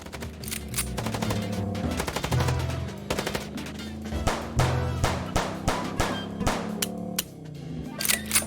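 Rapid gunfire in a car-chase shootout from the game Chicken Police, with repeated loud bursts of shots cracking over a steady engine drone and music, continuing in uneven clusters throughout.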